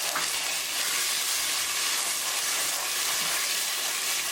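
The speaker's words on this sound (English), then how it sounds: "Cook spices and tomato sauce along with tadka for 2 minutes." Spices, tomato sauce and tadka sizzle steadily in a pan for a chickpea chicken curry, a bright, even frying hiss close by with no voices.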